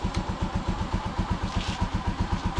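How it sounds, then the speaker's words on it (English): A Rusi TC-125 motorcycle idles nearby with a smooth, rapid chugging beat. Its regular low pulses repeat evenly without variation. "there's the Rusi 125. Sitting there idling nicely, purring like a kitten"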